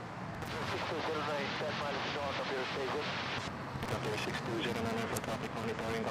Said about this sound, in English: A330 Cebu Pacific from Dubai. International flight.